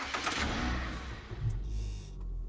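A 2011 Maruti car's 2.4-litre naturally aspirated engine runs with a throaty exhaust note, a loud steady rumble that swells slightly as it revs.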